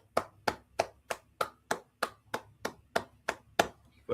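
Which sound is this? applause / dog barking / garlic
applause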